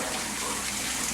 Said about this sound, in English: you can hear the water running in the background